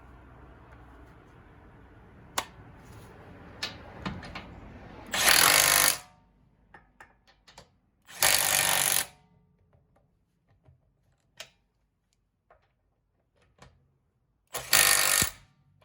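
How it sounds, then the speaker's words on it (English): Impact wrench finishing hand-started wheel lug bolts during a tire rotation: three loud, short rattling bursts of about a second each, separated by quieter clinks and handling knocks, close by with no talk. "then you can finish them off with your impact"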